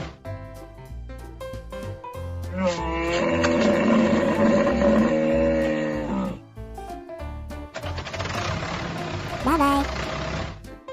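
A cartoon hippopotamus in an animated zoo-truck animal scene gives two long, deep roaring bellows separated by a short pause, loud and close over light background music, with no speech.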